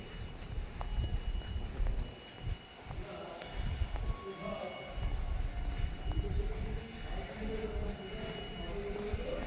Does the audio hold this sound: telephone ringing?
no